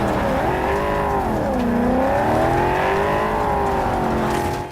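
A car driving in the video game Cyberpunk 2077 gives a loud, steady engine drone whose pitch rises and falls with revving over several seconds, with no talking.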